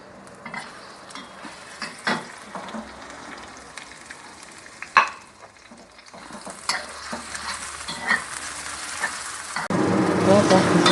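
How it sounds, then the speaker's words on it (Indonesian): Filling for stuffed tofu sautéing in a pan: soft sizzle with intermittent scraping and clattering of a utensil, growing into a louder, steady fry near the end. "sekarang saya tumis ini yang buat isian dulu"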